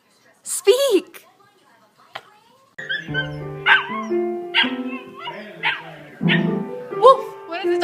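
A small dog answers a spoken command with a couple of short yips and whimpering barks, near and fairly loud, while people talk and laugh around it, one voice imitating the bark.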